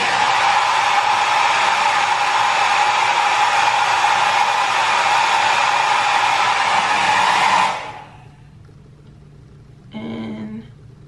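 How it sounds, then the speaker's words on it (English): A blow dryer runs on low heat close by, a steady loud whoosh that cuts off abruptly, followed after a pause by a brief softer burst, likely a hairspray spritz. "So you definitely use your blow dryer to set it in place on low heat."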